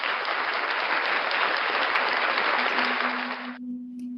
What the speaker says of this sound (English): Round of applause for Kenny Klein TV.